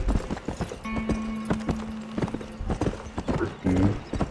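A horse's hooves clip-clop in a steady trotting rhythm in the Red Dead Redemption video game, with a brief whinny near the end and a faint, steady tone in the middle, all close and prominent.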